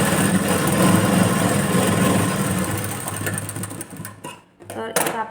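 A sewing machine stitches a tuck on a katori blouse, its rapid, steady mechanical whir running loud for about three seconds before slowing, stopping briefly, and starting again in a short burst.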